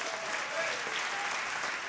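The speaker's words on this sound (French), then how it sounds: "Si vous êtes prêts, applaudissez bien fort." An audience at a church gathering claps loudly in a brief, dense burst of applause.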